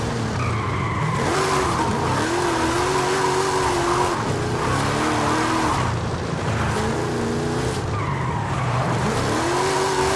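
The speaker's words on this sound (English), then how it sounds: "This thing is a beast when it comes to drifting. And it's speedy too." A fast car drifts in the Forza Horizon 5 racing game, its tires squealing continuously over a revving engine whose pitch climbs and drops with gear shifts, loud and close throughout.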